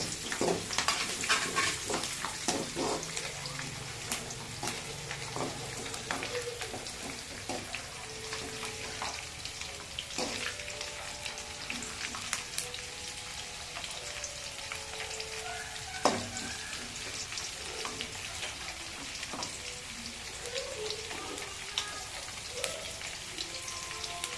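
Garlic, dried chilli and curry leaves fry in oil in a pan for a temple-style puliyotharai, a continuous crackling sizzle with scattered pops and occasional stirring scrapes, close and steady.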